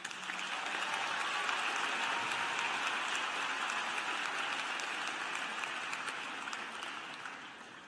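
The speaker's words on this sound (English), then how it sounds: "Please give them a round of applause." A large crowd at a graduate commencement ceremony applauds continuously, a dense wash of clapping that stays strong and gradually eases toward the end.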